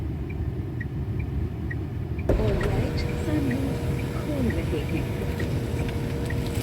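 A Tata Nexon facelift's sunroof opens by voice command: after a steady cabin hum, a sudden click starts a motorised whirring with soft chirping squeaks as the panel slides, heard up close.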